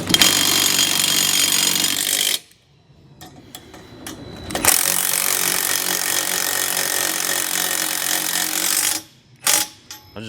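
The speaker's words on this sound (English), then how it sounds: "More power tools." A power tool runs loud and close while a Lolo bike rack is being mounted, in two long sustained bursts separated by a short quiet gap with small clicks, ending with a few brief stutters.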